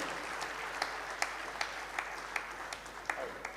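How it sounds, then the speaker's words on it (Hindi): An audience at an Arts Council of Pakistan tribute event in Karachi claps steadily, a dense, even wash of applause with a few louder individual claps standing out. "तालियां बजाते रहें।"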